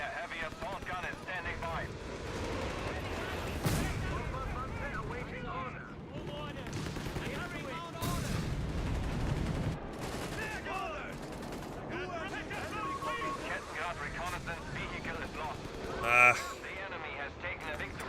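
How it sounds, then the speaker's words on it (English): A rocket barrage in a war video game hits as a few heavy blasts and rumbling bursts in a busy battle mix, with gunfire and voices throughout. "Rocket barrage incoming."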